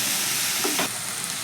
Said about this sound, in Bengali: এবার আমি বিটটাকে একটু গ্যাসের ফ্লেমটাকে মিডিয়াম করে ভেজে নেব